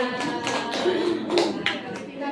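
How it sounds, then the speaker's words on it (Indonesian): Classroom clapping from students, a short, fairly quick patter of hands with voices mixed in. "Iya, tepuk tangan"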